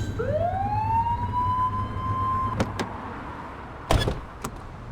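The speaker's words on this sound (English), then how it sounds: "Get behind them and blip the siren to make them pull over." A police car siren in the game The Precinct gives a single rising wail that holds steady for a couple of seconds and then stops, followed by a few sharp clicks and a louder thud over a low engine hum.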